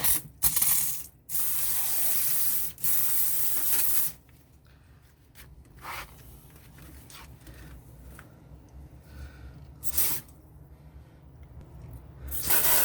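Plant-watering sprayer attachment spraying water, with loud hissing bursts near the start that cut in and out, then quieter handling and brief shorter sprays later.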